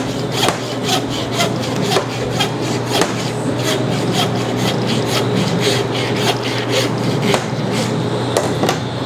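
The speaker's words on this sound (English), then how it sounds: "So I'm cutting this pretty much the same way that I would cut with the bandsaw, but I'm just using the hand saw." A hand saw cuts through a hog shank, rasping in steady back-and-forth strokes with sharp gritty bursts, close and continuous for the whole stretch.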